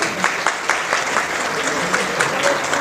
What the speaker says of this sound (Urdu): ذرا پلیز تالیاں بجائیں